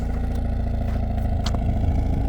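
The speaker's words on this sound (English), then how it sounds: "And the exhaust pipes bubbling." A black 2026 Hyundai Elantra N sedan runs with a low, steady exhaust rumble, punctuated by a few sharp pops and crackles, close and loud with no talking.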